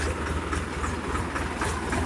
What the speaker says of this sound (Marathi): आम्ही आता ट्रॅक्टर मध्ये बसलेलो आहे